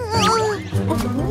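A cartoon cat sound in a kids' sticker face-puzzle story, a voice imitating a cat with three quick meows over a music bed, loud and close.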